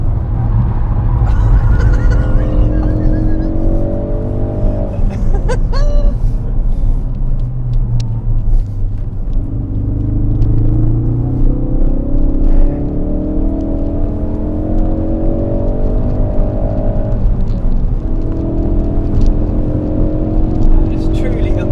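Ford Focus RS engine driving on the Goodwood track, a loud sustained rumble with repeated rising revs and gear changes through the whole stretch, heard from inside the car with occasional talk over it.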